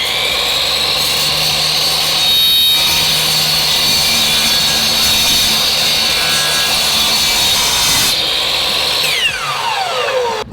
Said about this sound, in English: Now we're gonna chop the woods up and we're gonna jack the car up